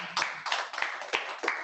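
A few scattered hand claps, about five separate bursts, sound at a university student appreciation ceremony, sparse and unhurried rather than a full round of applause.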